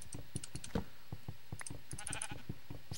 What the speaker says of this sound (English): I hear sheep. Why are there sheep?